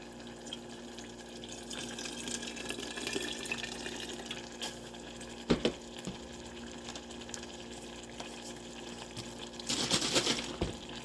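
Water runs into a half-empty bottle of jerk sauce to rinse it, a steady trickling pour with a couple of sharper sloshes midway and a louder splashing burst near the end, heard close up with no talking.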